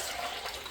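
A stubborn mini open-rim toilet flushes paint-tinted water as a test, giving a brief, steady rushing gush of water close to the microphone.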